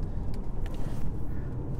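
A car driving slowly on a German road just before joining the Autobahn, giving a steady low engine and road rumble from inside the cabin.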